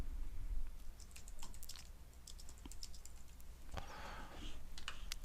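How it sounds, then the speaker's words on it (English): Keys clatter faintly on a computer keyboard as text is entered, scattered soft clicks in irregular bursts over a low background hum, with no talking. "type your text"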